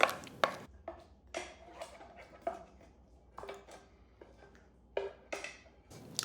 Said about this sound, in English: now I can scrape it into an attractive bowl